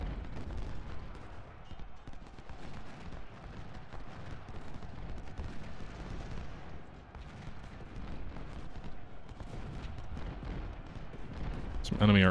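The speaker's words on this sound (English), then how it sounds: "It looks like there's definitely artillery coming in this way" Artillery booms and scattered gunfire rumble through a Civil War battle in the strategy game Ultimate General: Civil War, a low, continuous, fairly quiet barrage that swells briefly near the end.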